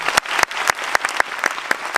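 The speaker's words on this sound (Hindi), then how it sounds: "जोरदार से तालियां होना चाहिए," Applause from an audience in a meeting hall during a company promotion-day class, steady dense clapping throughout with sharper claps punching through, loud and continuous for two seconds.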